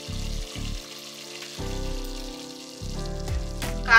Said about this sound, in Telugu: వాసన పోయేంత వరకు ఒక 2 నిమిషాల పాటు ఫ్రై చేసుకోవాలి